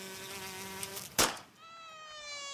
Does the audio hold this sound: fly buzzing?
yes